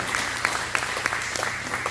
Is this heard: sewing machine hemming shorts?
no